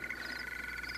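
A toad croaks in a continuous, steady drone with a raspy, buzzing tone, close and moderately loud, with no talking.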